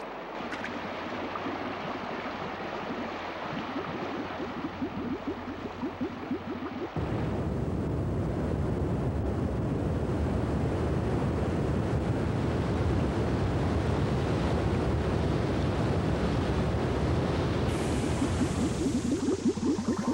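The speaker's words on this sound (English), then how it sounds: "In the pools below the falls, the water is turbulent but clear and well oxygenated." Turbulent water churns in a clear mountain stream pool below waterfalls, a steady, dense roar that never lets up and grows fuller and heavier partway through, with no voices over it.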